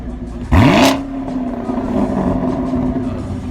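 Chevrolet Camaro at a car meet giving a single sharp rev, the engine note climbing quickly, peaking briefly, then settling back to a rumbling idle that keeps running.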